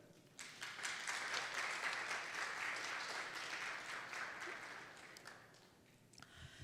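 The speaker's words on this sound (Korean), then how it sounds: "각자 부모님 자신을 향해서 힘찬 격려의 박수를" Audience applause rises quickly and holds as a dense, steady clatter of many hands clapping at a live talk event, then thins toward the end with a few scattered claps.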